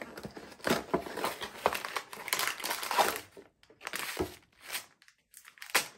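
A plastic bag of falafel mix crinkles and rustles as a box is opened and unpacked, irregular close crackling bursts with brief pauses between handling.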